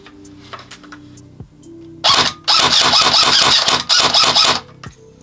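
ASG Strike Systems MXR 18 airsoft rifle with a plastic body firing a burst of rapid sharp clacks, first a single shot then a fast full-auto string in two bursts, loud and close with no talk.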